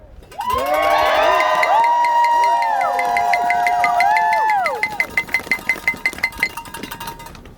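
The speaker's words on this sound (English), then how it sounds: "this cheer is for you" A crowd cheers loudly at an outdoor protest gathering, a sustained swell of shouting voices with whistles and whoops that tapers into rhythmic chanting or clapping near the end.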